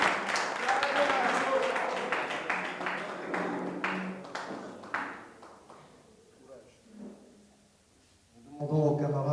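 Applause from a press-conference audience, dense clapping for several seconds that thins out and fades, with a voice speaking briefly at the end.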